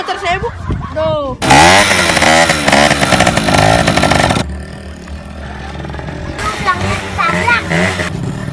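A motorcycle engine revs hard and rasping up close, then idles lower before revving again, with excited voices talking and shouting over it.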